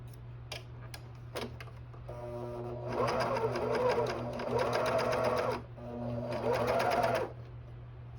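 A coverstitch sewing machine with a binder attachment runs in two bursts of steady rapid stitching, preceded by a few clicks and taps, close and clear over a constant low hum.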